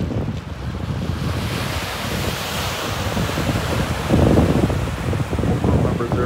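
Lake Superior waves churning and strong wind buffeting the microphone at Duluth harbor in cold rain as a ship comes in, a loud continuous roar that swells near the end.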